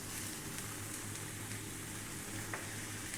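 Potatoes dropped into a hot pan of eggplant for an aloo baingan fry, giving a steady, close, full sizzle with faint stirring ticks and no talk.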